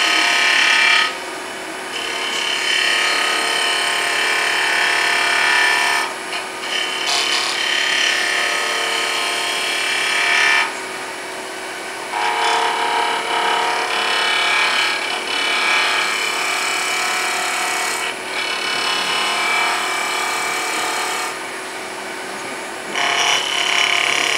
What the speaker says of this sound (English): I'm just going to use the skew just to give me a much smoother cut there in the center.